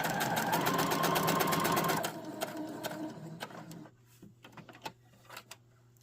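A sewing machine runs steadily while stitching fabric up to a corner, a fast continuous mechanical whir for about two seconds, then stops and leaves a few soft clicks and taps close by.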